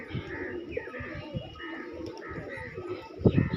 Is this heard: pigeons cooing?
yes